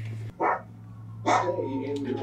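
A dog barks in a scene from The Last of Us episode 1, two short barks about a second apart, with a steady low hum underneath.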